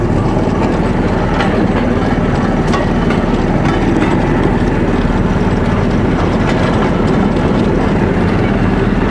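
Rail handcar rolling along old, worn railway tracks toward a ruined bridge, a loud continuous metallic rumble with rapid rattling clacks from the wheels throughout.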